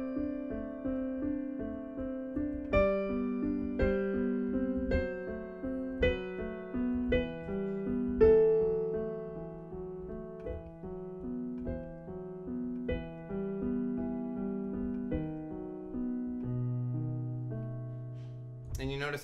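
Slow, gentle piano playing the adagio of Beethoven's Moonlight Sonata, a steady rolling triplet accompaniment under a soft melody, slowing slightly near the end, with no voices.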